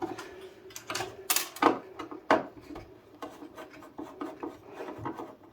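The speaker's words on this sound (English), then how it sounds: "Going to take off these screws next, I suppose. To try and get the board off" Screws being removed by hand from an amplifier circuit board, giving close, irregular scraping and rasping scrapes with a few sharper clicks and clinks, no talk.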